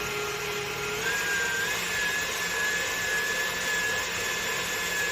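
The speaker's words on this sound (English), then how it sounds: "So that's about a cup of heavy cream, I guess. So put that in the stand mixer." A stand mixer whipping about a cup of heavy cream for cream puff filling, a steady, loud motor whir with an even hum that runs without a break and has no talk over it.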